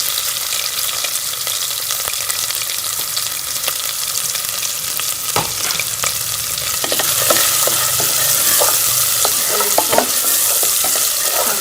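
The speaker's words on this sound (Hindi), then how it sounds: "इसे 1 मिनट के लिए फ्राई होने देंगे। इनके साथ इसमें प्याज भी शामिल कर लेंगे।" Onions fry in a pan for sultani dal, a loud close sizzle that grows denser toward the end, broken by spatula scrapes and taps on the pan.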